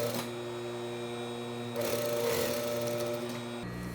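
A sewing machine stitches a bodice shoulder seam in a steady, close whir, briefly running faster midway before stopping, with no talk.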